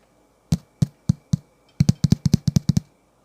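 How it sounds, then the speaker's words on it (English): A finger taps the paper cone of a Realistic Minimus 7 speaker woofer, giving short dull thuds with a drum-like tone: four spaced taps, a pause, then a quicker run of about ten. "This one has like a kind of more of like a drum sound to it"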